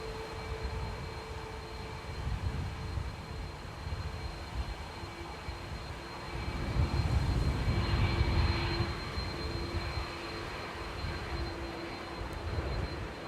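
An Airbus A330-300 jet airliner bound for Orlando roars past at Manchester Airport, a broad steady engine rumble with a high whine that swells toward the middle and stays loud and continuous.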